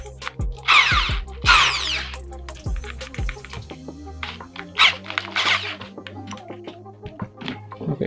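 A Dongcheng mini drill with a star bit drives a small stainless steel screw in two short, close whirring bursts, followed by quieter clicks and handling noises.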